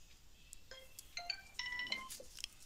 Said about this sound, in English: Somebody had a phone just called. Actually, it's a notification.